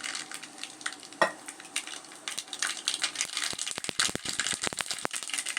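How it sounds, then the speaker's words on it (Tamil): Mustard seeds dropped into hot oil for a Tamil chicken kulambu, a close, bright sizzle that thickens into rapid sharp pops and crackles toward the end. "இப்போ கடுகு போட்டுக்கிறேன்."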